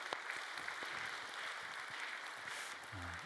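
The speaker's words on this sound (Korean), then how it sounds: "우리 박수하겠습니다." A church congregation applauds during a Sunday service, a steady, faint wash of many hands clapping from across the room, continuous throughout.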